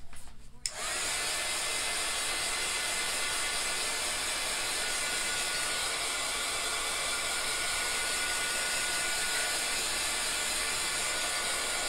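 A hair dryer starts abruptly and then blows continuously, a steady, fairly quiet whooshing whir as it dries a Chalk Couture stencil. No one speaks.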